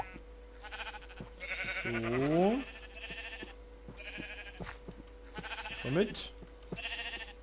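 Sheep in Minecraft bleat twice in wavering, rising cries a few seconds apart, under and between a man's close-up talking over steady game background sound.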